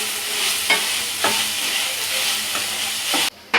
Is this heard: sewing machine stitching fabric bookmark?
no